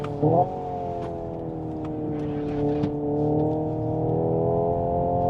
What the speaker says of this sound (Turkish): Şimdi bir ışıktan kalkış yapıyorum.